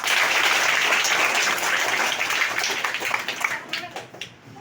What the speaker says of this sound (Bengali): স্যারের জন্য সবাই জোরে একটা হাততালি দেখি